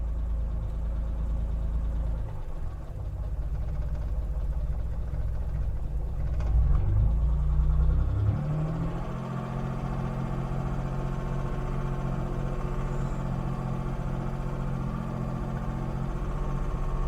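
A Suzuki Mighty Boy engine idles slowly and unevenly with a low, steady rumble, a brief rise partway through, then settles back to a low throb.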